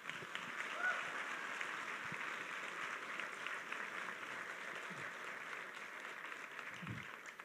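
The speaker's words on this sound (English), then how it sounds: "Give them a round of applause." An audience applauds at a school holiday show, a dense, steady wash of clapping that holds at an even level for several seconds.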